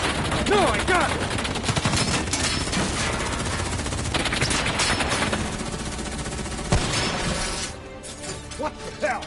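Gunfire in a Call of Duty campaign mission, rapid automatic bursts and single shots with glass shattering, dense and loud throughout, fading slightly near the end as voices call out.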